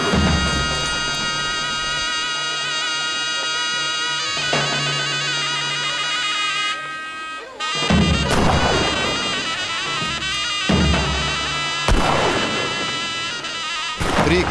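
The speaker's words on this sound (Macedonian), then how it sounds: "Три куршуми од пушка, знак дека свадбата може да почне." Three rifle shots announce the start of a traditional wedding in Galičnik, Macedonia; sharp, loud cracks spaced seconds apart break through continuous loud folk music played nearby.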